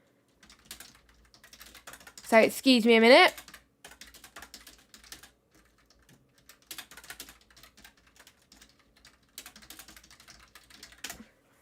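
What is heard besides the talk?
commentator frantically typing on a computer keyboard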